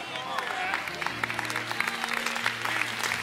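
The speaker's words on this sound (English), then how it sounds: "Now all of you can clap your hands." A church congregation claps their hands together, a dense wash of clapping carrying on steadily as sustained organ or keyboard tones and voices run underneath.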